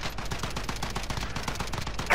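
Rapid bursts of gunfire from the video game Warzone, dense and continuous over a couple of seconds, close and loud with repeated sharp shots.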